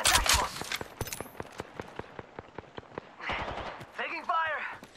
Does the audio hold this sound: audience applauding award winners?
no